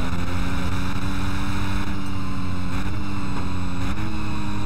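A Ducati 999R motorcycle racing down an avenue in Test Drive Unlimited, its engine a loud, sustained drone with a steady high whine and no talking.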